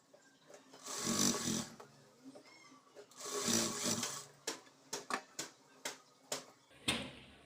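A sewing machine stitches a blouse lining in two quiet whirring bursts, then gives a string of short, sharp taps, all fairly faint and with no talk.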